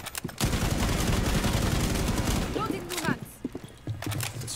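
Gunfire penetrating a wall in Rainbow Six Siege, a rapid loud burst of shots lasting a couple of seconds, followed by scattered impacts and clicks, with a few voices chattering around it.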